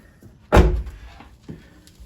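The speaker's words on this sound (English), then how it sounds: "Just going to shut the door." A Jeep Patriot door under body-filler repair swings shut with a single solid thump, a short rattling decay and a faint second knock about a second later, close by in a quiet garage.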